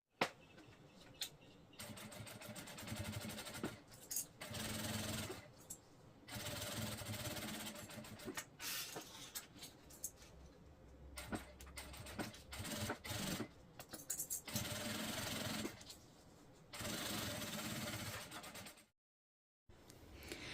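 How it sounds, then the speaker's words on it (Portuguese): Sewing machine running a topstitch seam on a zippered pouch, loud bursts of rapid mechanical stitching stopping and starting in short runs with brief pauses between them. "pelo lado principal eu vou passar uma costura de pesponto"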